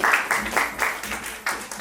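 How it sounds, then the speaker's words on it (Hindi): Short bursts of audience clapping at the opening session of a poetry festival's annual celebration in Prayagraj; several brief, loud pulses of claps come in uneven waves over under two seconds. "तालियां बजती रहनी चाहिए"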